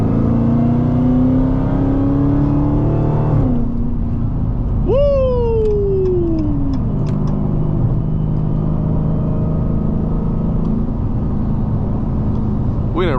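An 800 HP Dodge Hellcat accelerates toward 70 mph, its engine note climbing loudly and then dropping back to a steady cruising drone as road noise fills the cabin.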